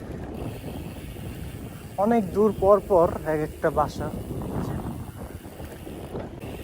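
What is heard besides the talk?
wind blowing across open riverside land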